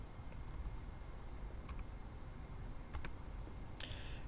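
Faint, sparse clicks of keys on a computer keyboard as a value is typed into a software dialog, a few soft taps spread out over a low steady room hum.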